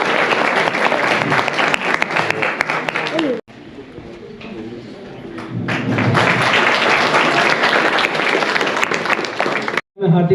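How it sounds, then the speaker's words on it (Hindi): An audience at a student felicitation ceremony at a government inter college in Manila breaks into loud, sustained applause that drops off briefly midway, then surges back to full strength and continues. "एक बार जोरदार ताली बजा दीजिए।"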